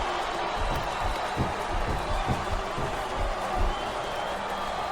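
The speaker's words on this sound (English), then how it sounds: "Sounds like this crowd's got something on their minds, King." A loud, steady arena wrestling crowd roar from the video game WWE SmackDown vs. Raw 2007, with cheering and murmuring, continuous throughout and broadcast-like in tone.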